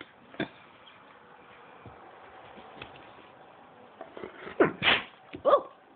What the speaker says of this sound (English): Oh, bless you, Maddie.